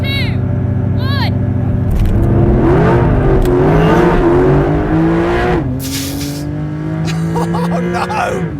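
A Porsche 911 accelerates hard at a race start, engine note climbing through gears with a loud, close roar and tire noise, overlapping heavy talk and commotion.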